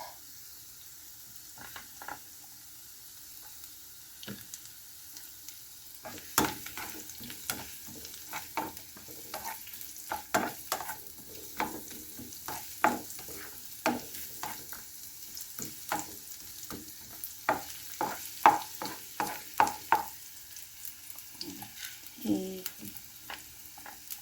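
Potatoes sizzling in a pan beside onions and garlic, with steady frying crackle and frequent scraping and clattering as they are stirred, close by.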